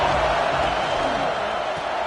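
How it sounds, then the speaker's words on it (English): Stadium crowd at an FSU at Clemson college football game: a dense, steady roar of many voices filling the whole moment, with no breaks or distinct individual shouts. "This crowd ready to make its presence known."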